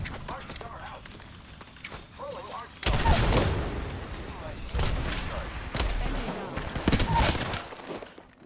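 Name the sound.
grenade explosions and gunfire in the video game Apex Legends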